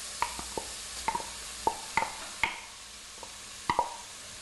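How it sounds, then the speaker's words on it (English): Crème fraîche stirred with smoked bacon lardons and a clove of garlic in a pan: a spoon taps and scrapes the pan in a loose series of close clicks over a soft, steady sizzle. "So you mix your creme fraiche around with the smoked lardons of bacon and the 1 clove of garlic"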